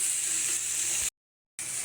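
Flattened rice poha being mixed in a hot pan, a steady close hiss of sizzling that abruptly cuts to silence for half a second, then resumes.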